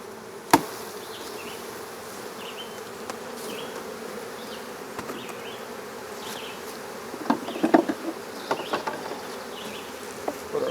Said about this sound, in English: we'll try and dump all these bees into the top of the hive